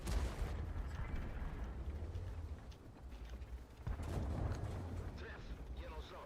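A medium tank's cannon fires in the World of Tanks video game, with two deep, heavy booms a few seconds apart over a constant low rumble of battle.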